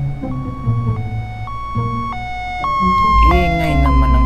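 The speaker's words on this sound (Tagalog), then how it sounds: "Ingay naman ang ambulansya na yan." An ambulance siren wails loudly in a rising and falling pattern, close and strong throughout, with a deeper rumble swelling near the end as the vehicle passes.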